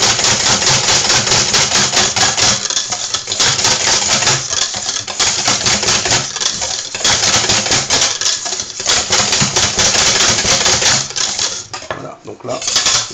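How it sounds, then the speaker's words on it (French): Yogurt cake batter being mixed in a bowl, a fast, continuous clatter and scraping of a utensil against the bowl, loud and close, with brief pauses near the end. "Là de nouveau on va bien mélanger l'ensemble"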